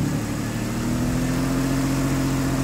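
A 2003 Ford Explorer engine with a misfire runs steadily at a smooth idle, a continuous low hum with a faint steady tone and no revving.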